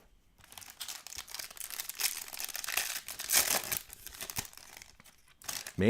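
Paper is torn and crumpled while a 2022 Bowman Draft Jumbo card pack is opened: close, crisp crinkling and ripping in uneven bursts, with a sharper tear at the end.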